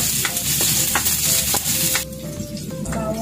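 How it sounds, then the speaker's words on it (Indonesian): Onions sizzling loudly in hot oil in a pan, a dense close crackle with spatula scrapes and knocks, easing slightly partway through, and no one speaking. "magpainit po tayo ng mantika sa kawali. Tapos, ilalagay po natin yung sibuyas."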